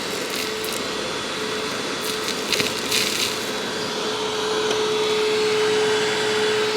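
A Hoover Windtunnel self-propelled upright vacuum cleaner runs with a steady, loud whine. A few brief crackles of debris are sucked up partway through, and the motor tone grows slightly fuller toward the end.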